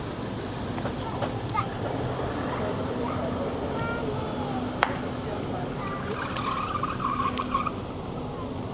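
A car's tires squeal briefly and faintly in the distance, a thin high whine rising over a steady outdoor traffic rumble, with people's voices faintly mixed in.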